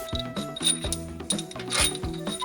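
Ratchet working loose the head bolts of a supercharged 1965 Mustang engine by hand, short close metallic clicking and ratcheting with a few clinks, with no talking.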